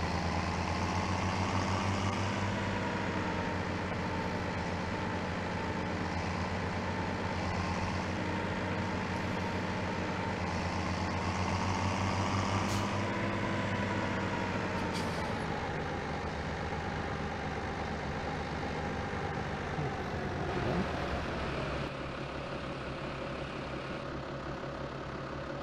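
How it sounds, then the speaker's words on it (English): A tractor engine in Farming Simulator 17 runs steadily for the whole stretch, a loud continuous drone with layered harmonics and slight shifts in pitch as it drives, with no talk. "let's get back in this tractor."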